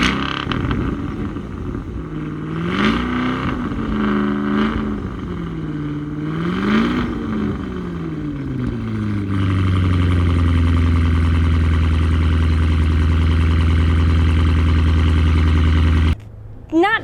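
A Cadillac Escalade V SUV engine revs up and down repeatedly through its quad-tip exhaust, rising and falling in pitch, then settles into a loud, steady drone before cutting off.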